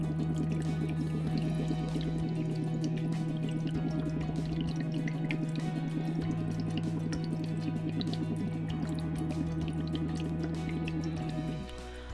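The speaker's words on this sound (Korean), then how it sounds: "우리가 어렸을 때 많이 했던 보글보글 소리를 내볼 텐데요" Steady bubbling gurgle from blowing through a straw into a water tumbler filled about halfway, a continuous close burble lasting throughout with a low humming tone beneath and no talk.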